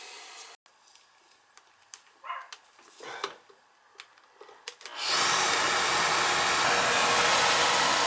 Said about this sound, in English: So that's running just the motor.